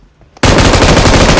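M249 machine gun in a battle-royale shooter video game, firing a sudden loud continuous burst of rapid automatic shots after a brief quiet start.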